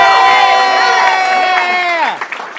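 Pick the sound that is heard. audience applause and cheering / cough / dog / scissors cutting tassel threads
audience applause and cheering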